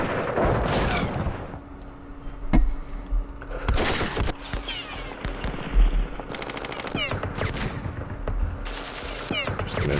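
Machine-gun fire in a Vietnam War strategy game: repeated bursts of rapid gunfire with sharp cracks and a few breaking, shattering impacts, loud and dense throughout.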